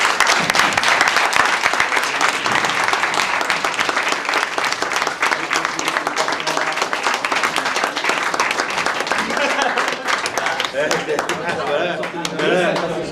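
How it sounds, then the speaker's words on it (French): An audience at a wedding ceremony breaks into sustained applause, dense crowded clapping that holds for many seconds before thinning, with voices rising near the end. "Bravo, on les applaudit."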